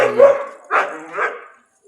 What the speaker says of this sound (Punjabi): ਆਪਣੀ ਵੀਡੀਓ ਨੂੰ ਦੇਖ ਕੇ ਕੁੱਤੇ ਵੀ ਭੌਂਕਣ ਲੱਗੇ